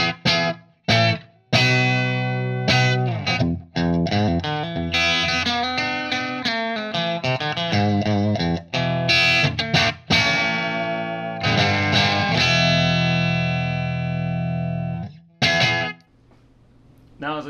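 Electric guitar on its bridge pickup, run through a Supa-Boost pedal into a clean amp, playing loud strummed chords and single-note runs with a bright, slightly driven edge, ringing out alone before a brief pause and final chord.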